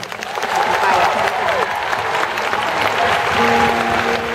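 An audience applauds a band at a concert, a dense, sustained wash of clapping from a crowd that holds steady throughout, with faint tonal sounds and a voice in the background.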